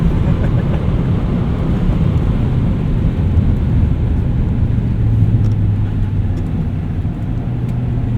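A 1998 Lexus GS 400 cruises along a wet road, its steady engine drone and constant tire hiss on the damp surface filling the cabin, continuous and fairly loud with no break.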